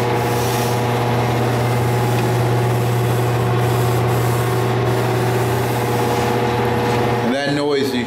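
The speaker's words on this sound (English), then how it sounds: "And that noise you hear is the exhaust fan," A big exhaust fan runs in a paint area for a case mod spray job, a loud, steady hum with a constant low tone that fills the room, briefly disturbed near the end by a voice.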